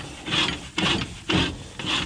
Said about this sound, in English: we're just spinning the auger backwards and augering the shit out of it